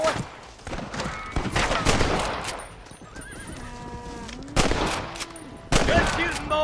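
Gunfire in the Red Dead Redemption video game, sharp rapid shots in bursts mixed with a horse's whinnies and hoofbeats, loud and close, with voices talking between volleys.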